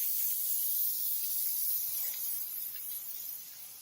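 Pam cooking spray misted onto a raw chicken for roasting, a steady close hiss lasting a few seconds and easing slightly toward the end, with no talk over it.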